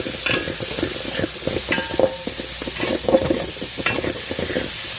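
Tomato and onion sautéing with salt and turmeric in a pan for goat head curry, with a spoon stirring in repeated scraping strokes over a soft continuous sizzle, close and alone.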